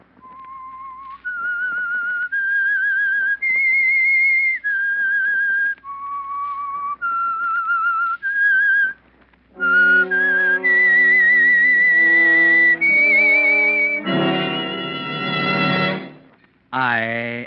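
A clear, close whistled tune of sustained notes rising and falling in a melody, the theme signal of the radio drama The Whistler, followed by an orchestral passage taking up the theme.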